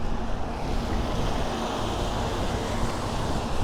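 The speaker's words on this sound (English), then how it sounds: "it is blowing about 20 miles an hour winds" Strong wind of about 20 mph blows across the Cornish coast at St Ives, a loud, unbroken broadband roar of gusts and surf buffeting the microphone, with no voices.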